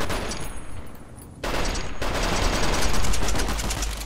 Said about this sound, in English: I'm shooting it out of your hand for a reason.